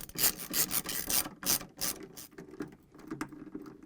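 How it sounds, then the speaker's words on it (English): A 7mm socket wrench tightens a bolt on a washing machine clutch bracket, producing quick scraping, rasping ratchet clicks in short bursts with gaps between, close up. "I'm going to use these 7mm socket wrench. I'm going to tighten it."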